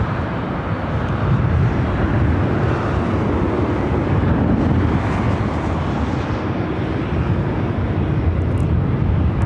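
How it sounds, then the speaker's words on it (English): A Lufthansa Boeing 747 taxis at LAX toward the south side for a runway 25 left departure. Its engines make a loud, continuous broadband roar with wind buffeting, steady throughout with no breaks. "The Lufthansa Queen is on the move, heading to the south side for a takeoff 25 left."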